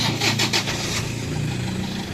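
A Toyota Innova engine cranks and catches right after brake repair work, with a few short rhythmic bursts at the start settling into a steady idle rumble, close and fairly loud.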